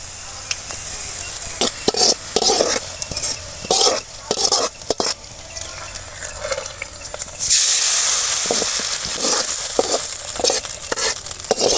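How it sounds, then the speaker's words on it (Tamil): Curry leaves, onion and garlic sautéing in a pan for a mookirattai greens dish, with loud, busy stirring scrapes and clanks over sizzling that swells into a stronger hiss partway through, close up. "இப்போ கறிவேப்பிலை போட்டுக்கலாம் இப்போ வெங்காயமும் பூண்டும் நல்லா வதங்கிருச்சு"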